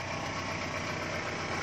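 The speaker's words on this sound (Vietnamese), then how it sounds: "Máy nổ khá êm." A 1991 Toyota car engine idles smoothly and steadily, giving a constant low hum with no talking.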